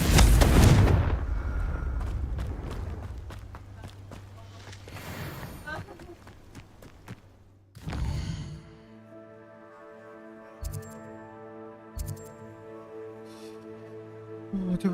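A Confringo blasting spell from Hogwarts Legacy bursts out loudly at the start, and more blasts and impacts follow over the next few seconds. A sharp hit lands later against sustained tonal game music, with a voice speaking at points.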